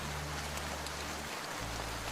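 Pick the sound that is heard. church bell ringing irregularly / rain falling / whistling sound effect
rain falling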